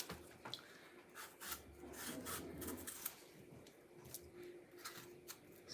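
A big sharp knife scrapes the skin of a ripe plantain in repeated rasping strokes, close and fairly quiet, with no speech.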